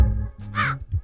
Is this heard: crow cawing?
yes